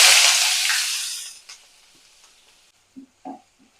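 Onions hit hot oil with a loud, crackling sizzle that fades over about a second and a half, followed by near quiet broken by a few soft knocks and clicks.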